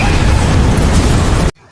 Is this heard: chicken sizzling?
no